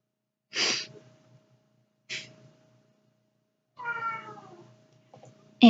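Three separate cat meows with pauses between them, fairly close and clear, with a faint steady hum in the background and no talking.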